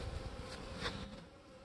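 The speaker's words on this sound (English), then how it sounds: "once these bees settle down" A swarm of honeybees at a hive buzzes in a steady, faint, dense drone that holds evenly throughout with no talking.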